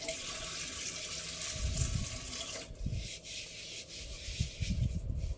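Dishes scrubbed by hand with a dish cloth and a soap bar, close-up rubbing and sponging with splashes and running water from a sink, in irregular bursts.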